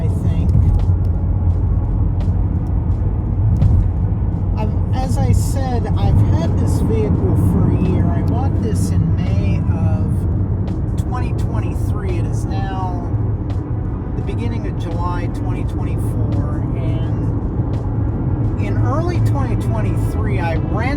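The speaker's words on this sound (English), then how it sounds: "getting onto an interstate highway right now, and as you may be able to see, it does have pretty good power, so it is able to accelerate pretty quickly" A 2021 Ford Escape accelerating up an interstate on-ramp, with a steady, loud engine and road drone heard from inside the cabin, and a voice talking over it throughout.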